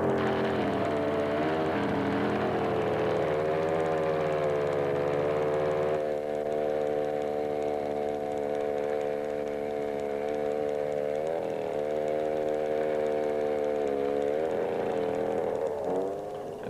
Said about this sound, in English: As the scout lifts off to the tune of singing wires and strumming fabric